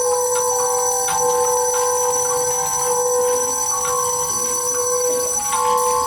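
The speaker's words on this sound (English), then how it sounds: "soon it began to ring loudly, and so did every bell in the house" Loud bells ring repeatedly with bright, sustained metallic tones and periodic strikes, a chorus of house bells sounded during a stage play of A Christmas Carol.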